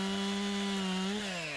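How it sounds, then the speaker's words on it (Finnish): A chainsaw cuts through a tree trunk, bucking it into firewood lengths; the engine holds a steady, loud, continuous drone under load, then its pitch drops slightly near the end as the cut finishes. "Sitten vielä oli rungon sahaus polttopuun mittaan"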